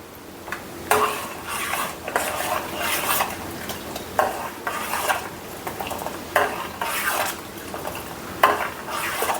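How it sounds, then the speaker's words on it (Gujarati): Milk being curdled for rasmalai, stirred steadily in a pot, giving rhythmic scraping strokes against the metal every second or so over a low background hiss. "તો આ રીતે હલાવતું રહેવાનું"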